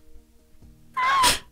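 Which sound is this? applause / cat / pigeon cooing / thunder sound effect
cat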